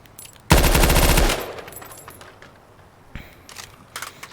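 A rapid burst of gunfire from a small rifle at an outdoor shooting range, a loud dense string of shots lasting under a second, followed by a fading echo and a few quieter clicks and handling sounds.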